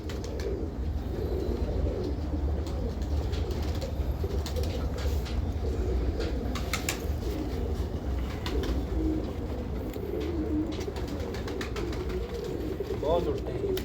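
Pigeons of a breeder's strong flying breed coo softly and repeatedly in a loft, their low calls woven through a constant dense background hum.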